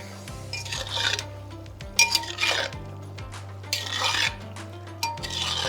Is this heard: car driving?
no